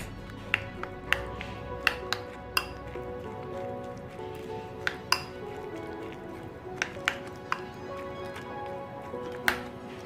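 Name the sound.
mixing chopped vegetables in a bowl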